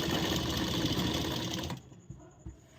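A sewing machine runs a steady, dense stitching burr on a princess-cut blouse with a back-neck design, then stops abruptly, leaving a few soft clicks and handling sounds in the quiet that follows.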